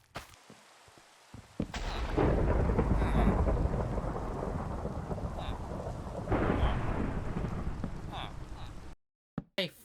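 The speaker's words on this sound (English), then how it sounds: "then I was hit with a massive thunderstorm" A heavy Minecraft thunderstorm rolls in with long, booming thunder over steady rain hiss, swelling twice to loud rumbles before cutting to silence near the end.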